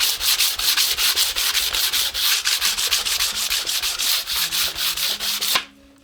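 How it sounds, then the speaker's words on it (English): Sandpaper rubbing lightly over the finish of an electric octave mandolin body, a loud, close rasp in quick rhythmic back-and-forth strokes that stops abruptly near the end. "we're just gonna sand it lightly"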